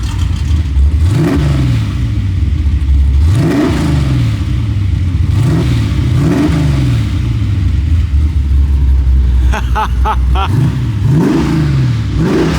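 A third-generation Chevrolet Camaro exhaust revs repeatedly in rising and falling bursts, deep and close, with a brief clattering rattle near the end.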